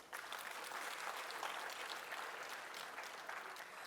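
A crowd applauds steadily at a literary festival in India, dense clapping filling the whole stretch at a fairly even level with no voices on top.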